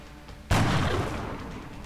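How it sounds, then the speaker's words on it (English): A single gunshot rings out at a sectoid in XCOM: Enemy Unknown, a sharp loud blast followed by a rumbling boom that decays slowly over the next second. "Can you take a shot at that sectoid?"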